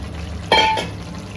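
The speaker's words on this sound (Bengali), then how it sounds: "এখন আলু দিলাম দিয়ে দেখো একটু ঘেটে দিলাম" Potatoes tip into a pan of desi chicken and get stirred, a single loud splashy clatter with a brief sizzle rising from a low background, then fading within about a third of a second.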